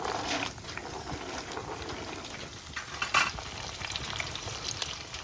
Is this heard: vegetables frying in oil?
yes